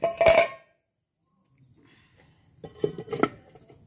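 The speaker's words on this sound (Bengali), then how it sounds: "এখন আমি ঢেকে দিচ্ছি।" A metal lid is set onto a pan while chitoi pitha cooks, giving one clear clatter up close, then a quiet gap and a few softer clinks and knocks of cookware.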